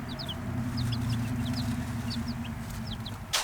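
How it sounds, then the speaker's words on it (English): New chicks on a homestead cheeping: repeated high, short peeps scattered over a steady low hum, close and clear, with a brief rustle at the end. "We got some new chicks on the homestead."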